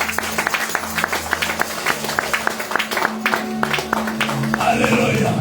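A church congregation claps and cheers in praise of the Lord, a fairly loud run of uneven applause with scattered voices mixed in, swelling slightly toward the end.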